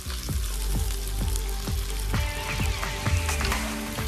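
Thinly sliced onions frying in a pan for goulash, a steady, loud crackling sizzle with rhythmic scraping stirs about twice a second, close and unbroken.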